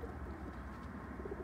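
Pigeons cooing softly in the background, low muffled murmurs over a faint steady ambience, no voices.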